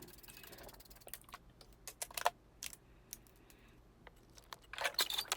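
Short bursts of ratcheting clicks as a hand ratchet backs out 10mm bolts holding the battery tray of a VW MK7 GTI, uneven clusters of sharp metallic ticks with brief pauses, fairly faint and close, with no talking.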